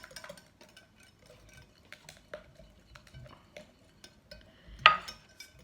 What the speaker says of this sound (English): Just using a whisk to whisk everything together.